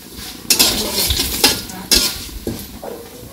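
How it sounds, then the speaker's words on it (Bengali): Black gram dal stirred in a pan over panch phoron, a continuous oily sizzle with several scraping spoon strokes against the pan, close and loud, no talking. "এই যে পাঁচফোড়ন দিয়ে তারপরে মাসকলাইয়ের ডাল দিয়ে দিছে"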